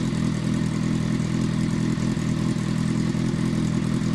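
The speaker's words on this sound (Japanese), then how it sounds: "以上、エンジンの動作確認動画でした。" An older Yamaha XJR400R motorcycle engine in good running condition idles steadily and evenly nearby, a continuous low throbbing rumble with no other sounds.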